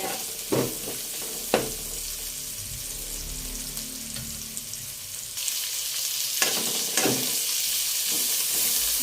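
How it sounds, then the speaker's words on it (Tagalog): Ginger sautéing in leftover frying oil in a pan for paksiw na bangus, a steady hiss and sizzle throughout with occasional clinks of a utensil, louder and fuller in the second half. "dito na din po tayo ng gisa sa ating pinagprituhan"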